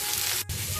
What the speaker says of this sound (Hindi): ई सबटा माछ के हम तैर लै छी पहला